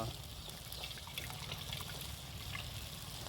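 Cooking water is drained off boiled mutton as a steady, faint trickle and pour of liquid that runs on without a break.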